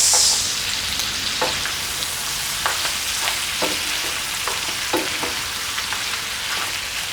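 Chopped tomatoes stirred into frying beef and lamb curry, with a constant loud sizzle and soft periodic scrapes of the spoon, no voices.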